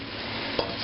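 Potato pancakes frying fairly deep in oil in a pan, a faint steady sizzle with one small clink partway through, brief and quiet.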